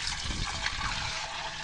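Water pours steadily into a container as a measured batch for a fish tonic is made with jaggery, a continuous close splashing and trickling with no talk.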